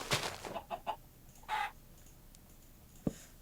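A Minecraft chicken clucks in a short run of quick, soft clucks near the start of the clip, followed by scattered faint game sounds and one sharp click near the end, all at low volume.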